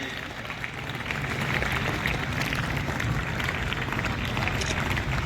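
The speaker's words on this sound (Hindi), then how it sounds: "तालियों से आप अभिवादन करें" An audience at a school Constitution Day ceremony applauds to welcome the principal, a dense, even wash of clapping lasting several seconds with faint voices mixed in.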